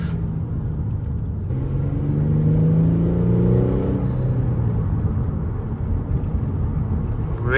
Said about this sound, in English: This VQ motors just love to rev.